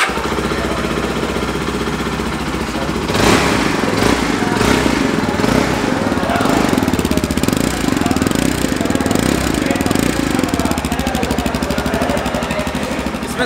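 A 2024 Yezdi Adventure motorcycle engine runs steadily up close with a loud, throbbing exhaust rumble that swells slightly partway through and holds.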